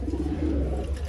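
Racing pigeons kept for sale cooing close by, a soft continuous low murmur from several birds with no speech.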